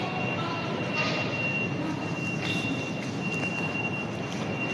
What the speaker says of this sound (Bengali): খুব সুন্দর মেট্রোটা করেছে আর কি